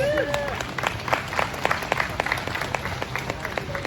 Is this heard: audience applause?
yes